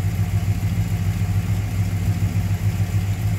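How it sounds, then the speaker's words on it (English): A 1968 Plymouth Satellite engine idles smoothly, a steady low rumble with an even, unbroken pulse, loud and close, with no talking over it. "No unusual sounds coming from the engine bay. Runs nice and smooth."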